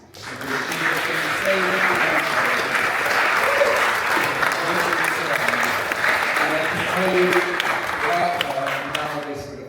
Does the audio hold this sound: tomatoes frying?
no